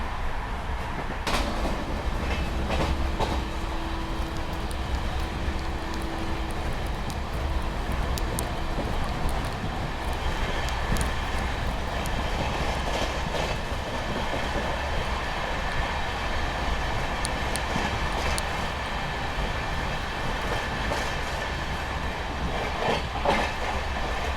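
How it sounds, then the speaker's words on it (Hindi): A special train rolls past alongside a moving Amrit Bharat sleeper coach, giving a steady, close rumble with faint clickety-clack rail rhythm and wind noise throughout, with no talking. "ये मेरे ख्याल से कोई स्पेशल ट्रेन जो है वो क्रॉस हो रही है अभी"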